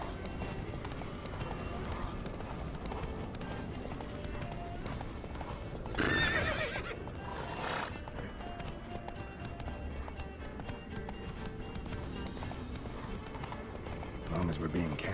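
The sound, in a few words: horse Roach galloping, from video game Witcher 3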